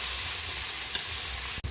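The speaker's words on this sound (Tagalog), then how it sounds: "Nagisa na po yung bawang sibuyas kamatis." Garlic, onion and tomato sautéing together in a pan, a dense continuous sizzle close up with a brief scrape near the end.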